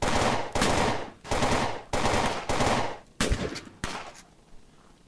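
Loud, close bursts of AK rifle automatic fire from the zombie shooter game Fort Zombie, about six sustained volleys separated by brief gaps, the last ones shorter and trailing off into quiet.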